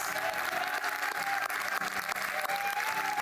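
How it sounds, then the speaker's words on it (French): A church congregation applauding in a dense, steady wash of clapping from a large crowd, loud and sustained across the whole stretch, with faint voices mixed in. "Est-ce qu'on peut donner une réelle acclamation en 2022 à Jésus-Christ?"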